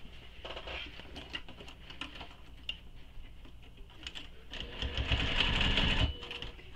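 A sewing machine runs around the edge of a Colby sling pack bag in quiet, intermittent bursts of rapid stitching, with the longest and loudest run near the end.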